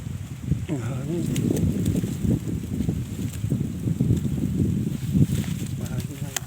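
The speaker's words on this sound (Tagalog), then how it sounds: "Mahangin na." Gusty wind buffeting the microphone outdoors during a dove hunt, a low rumbling roar that swells and fades, with voices talking faintly underneath.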